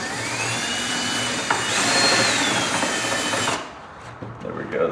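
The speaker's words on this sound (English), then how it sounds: "looks like we need to drill out this hole a little bit more." A power drill whines steadily for a few seconds while drilling out a hole on a Club Car DS golf cart, rising in pitch, then cuts off, leaving quiet handling noises.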